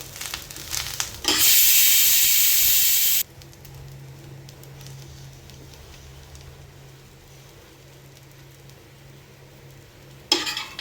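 A sudden loud sizzling hiss lasts about two seconds, then fades to quiet scraping of spices being stirred on a hot griddle before a short hiss returns at the end.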